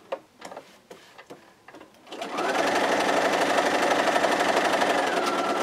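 A sewing machine runs steadily while stitching a raw edges square quilt, a continuous whirring hum that starts after about two seconds of quiet handling clicks and shuffles, then holds loud and even to the end.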